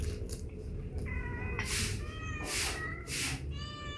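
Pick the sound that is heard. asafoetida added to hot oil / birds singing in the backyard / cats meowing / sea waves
cats meowing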